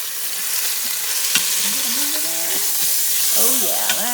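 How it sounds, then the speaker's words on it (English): A pot roast searing in a hot pan, giving a loud continuous sizzle with occasional pops, while a voice talks briefly underneath. "Oh yeah, that is a good sear."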